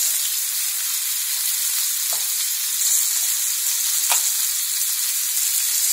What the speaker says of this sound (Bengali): রেখে এটা ভালোভাবে নাড়াচাড়া করে 2 মিনিট একটু ভেজে নিতে হবে